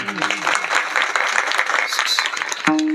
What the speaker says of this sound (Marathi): टाळी वाजवा महाराज